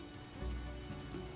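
Steady rain falling in The Witcher, a constant soft patter across the whole moment with a low rumble underneath and no voices.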